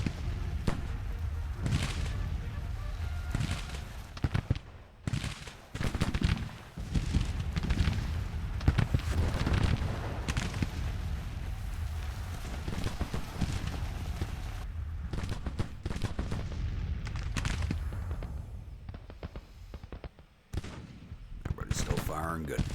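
Musket volleys and artillery booms from a Civil War battle in Grand Tactician, irregular bursts of crackling gunfire and heavy thuds, some near and loud, others distant, with someone talking over parts.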